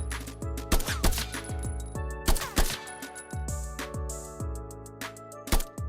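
Rapid gunfire crackles from a firearm in an indie shooter game in development, sharp repeated shots in irregular bursts with metallic shell casings pinging and clinking as they drop to the ground.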